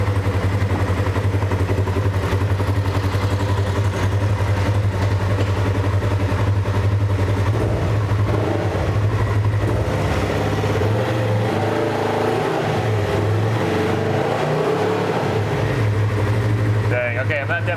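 A wrecked 2021 Polaris RZR 1000 engine idles in gear with a steady low rumble throughout, loud and close, while people talk over it.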